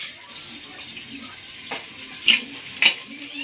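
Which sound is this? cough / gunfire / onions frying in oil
onions frying in oil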